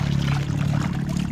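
Water flowing steadily from a wishing well at a seaside resort in Cebu, heard as a close, continuous splashing pour with no talk over it.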